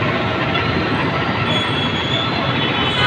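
LRT light rail train running on an elevated track overhead in a crowded street area, a loud continuous rumbling roar of wheels on rails that stays steady throughout.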